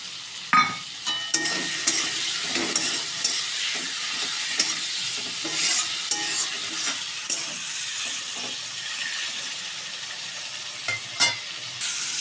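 Tomatoes stirred and fried in a sizzling spice masala for a fish-head curry, a steady loud sizzle broken by repeated scraping and clacking strokes of a spatula against the pan, with no talk.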